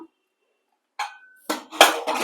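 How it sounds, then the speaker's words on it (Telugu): A metal pressure cooker lid is taken off after cooking rice, heard as a short sequence of three sharp metallic clanks and rattles after a brief silence. "ఈ కుక్కర్లో వండేసాం కదా మూత అనేది తీశాను"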